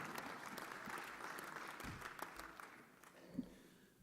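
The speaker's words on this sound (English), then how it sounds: "let's give our congressman, the handsome movie star, a big round of applause" Crowd applause for a congressman at a roast, a moderate clapping wash that gradually thins and fades toward the end, with a few isolated louder claps and no talking.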